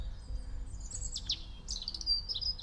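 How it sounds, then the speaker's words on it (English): A robin sings high, thin warbling phrases with quick trills, fairly close in woodland in Sussex, against a quiet low background hum. "there's a robin up there."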